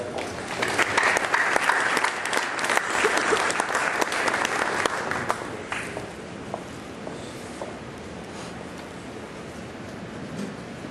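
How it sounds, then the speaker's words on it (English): Loud audience applause fills a banquet hall at a high school FFA awards banquet, sustained for several seconds before thinning to scattered clapping and room noise. "Let's give these guys a round of applause."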